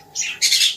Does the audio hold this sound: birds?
yes